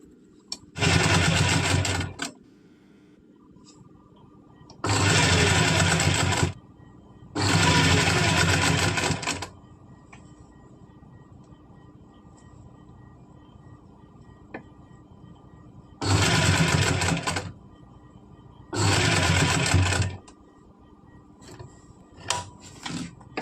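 Sewing machine stitching a kurti collar in rapid bursts, five loud runs of fast needle clatter separated by pauses with quiet room hum between them.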